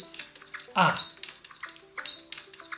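A DigiBirds robot toy bird's electronic chirps and tweets repeat in quick bursts, with a short voice exclamation partway through.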